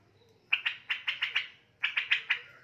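A young male straw-headed bulbul, close to five months old and moulting into adolescent plumage, gives two bright bursts of repeated loud chirps: about six notes, a pause, then four more, close by.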